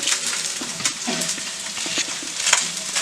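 Onions hit a hot pan with chicken, bringing a close, continuous sizzle and crackle punctuated by a few clacks and scrapes of a utensil, with no talk.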